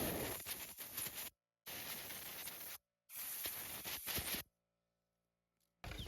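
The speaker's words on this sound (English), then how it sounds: "just take an air hose with a spray nozzle and blow it out" Air hose with a spray nozzle blasting dirt out of a Kubota U35-4 excavator final drive, three loud hissing bursts separated by short pauses, close up, followed by a faint final puff.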